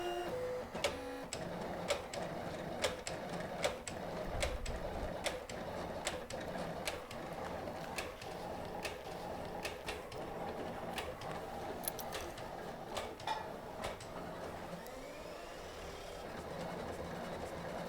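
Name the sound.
Silhouette cutting machine cutting silver clay bezel wire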